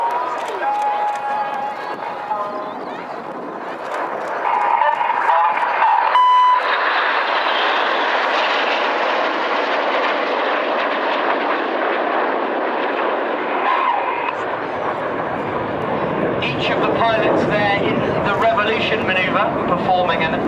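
Jet engines of the RAF Red Arrows roaring through an aerobatic display at an air force show, a loud sustained whoosh that swells and shifts as the aircraft pass, with a commentator's voice running over it.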